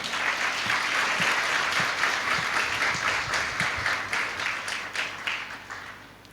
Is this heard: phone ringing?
no